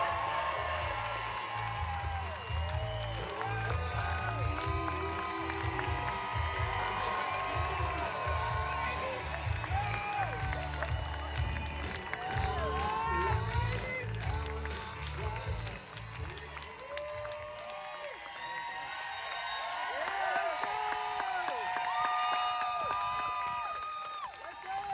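Outdoor rally crowd at a Washington DC march cheering, whooping and clapping in a loud, sustained roar that thins out toward the end, with scattered shouts over it.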